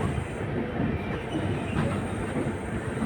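A train pulls out of platform 2 at Bishamakatak station in Odisha, giving a steady, dense rumble of rolling wagons and wheels on rails that stays close and even throughout, with no talking.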